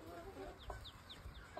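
Egg-laying hens in a grass-fed backyard flock make soft, short clucks and chirps repeated every fraction of a second, faint and close against a low background murmur.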